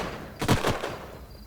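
A unit fires its weapon in the strategy game Age of Wonders: Planetfall, giving a brief rapid burst of two or three sharp shots, moderately loud over a soft background.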